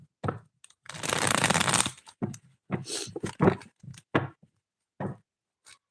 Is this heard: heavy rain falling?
no